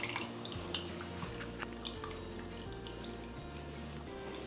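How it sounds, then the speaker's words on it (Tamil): Tamarind water poured into a beetroot sambar, a faint, continuous trickle and splash of liquid with light dripping, quiet and close, no talk. "பாருங்கள், புளி தண்ணி சேர்த்துக்கலாம்."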